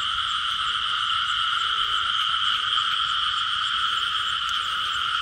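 A dense chorus of frogs croaking after heavy rain, a loud, continuous, high trilling drone from many animals, with no voices over it.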